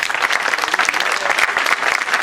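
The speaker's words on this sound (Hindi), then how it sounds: "इन कलाकारों के लिए तालियां तो बनती हैं।" A theatre audience at a stage performance claps steadily for the actors, a dense, even burst of applause with no talking over it.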